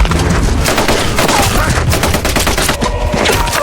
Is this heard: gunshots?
yes